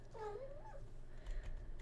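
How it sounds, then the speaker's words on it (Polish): A cat lets out a rising, wavering meow up close, followed by softer rustling and low murmuring sounds. "Będziecie słyszeć teraz pomiałkiwanie i pomrukiwanie"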